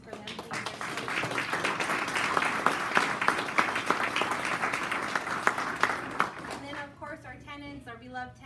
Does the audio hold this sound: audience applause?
yes